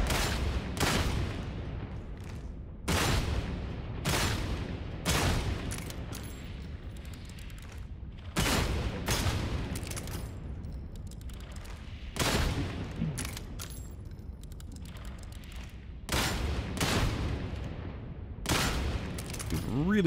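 Heavy gunfire in the Darktide video game, with loud bursts of rapid volley fire and booming shots arriving in repeated clusters separated by brief lulls, with no voices over them.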